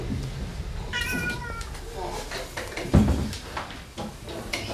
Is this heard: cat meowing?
yes